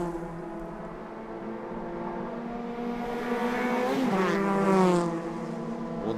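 Racing cars pass on a circuit during an ICCR club race, engines droning steadily and then swelling into a louder, rising pass near the four-second mark before easing off. No one speaks.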